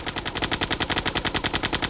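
Rapid cartoon machine-gun fire from an animated Polish adult comedy series, a steady stream of evenly spaced loud bursts about ten per second, close and continuous with no talk.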